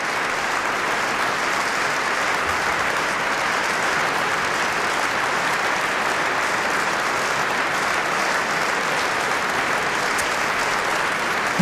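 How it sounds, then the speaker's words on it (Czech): A concert hall audience gives a standing ovation to a pianist after a Chopin recital, with dense, continuous clapping that stays loud and even throughout. "publika, které ještě stále aplaudují ve stoje"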